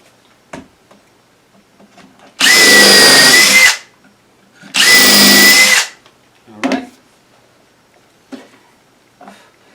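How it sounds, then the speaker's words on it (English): Two loud, close bursts from a power drill, each lasting about a second and a half, bore pilot holes into the wood of a planter stand. Quiet handling knocks and taps come between and after the bursts. "We're going to hold it and we're going to pre-drill it."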